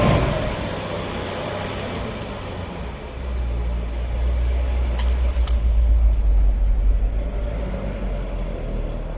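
The very first Corvette ZR1, with its pushrod V8, driving along with a steady deep engine drone that swells as it accelerates and stays loud and even, heard from inside the car.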